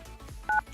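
A single short dual-tone keypad beep from a telephone being dialed during a radio prank call rings out clearly for a moment over a low, muffled room hum.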